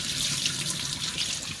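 Tap water pours steadily into a bowl of basmati rice being washed, a bright continuous splashing rush close by, with no talking.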